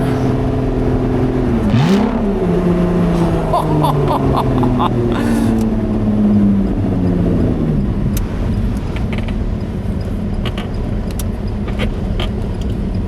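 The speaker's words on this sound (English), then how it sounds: "And wow, I can't get over the sound." A Lotus Exige engine rumbles loudly up close on an Alpine drive, rising and falling in pitch as it revs, then settling into a lower steady drone.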